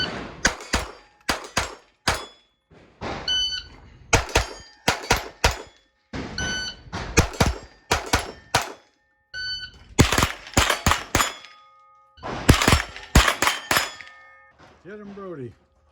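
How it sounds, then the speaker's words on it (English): Rimfire pistol shots strike steel plates at a Steel Challenge championship match on the Showdown stage, each sharp crack followed by a ringing clang, fired in quick clustered strings with short pauses, and a brief voice at the end. "time to go shoot my rimfire pistol on Showdown for the final stage of the day"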